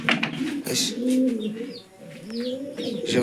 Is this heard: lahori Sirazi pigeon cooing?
yes